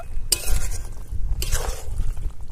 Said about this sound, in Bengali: আবারও ঠিক এইভাবে নেড়ে চেড়ে 5 থেকে 7 মিনিট রান্না করে নেব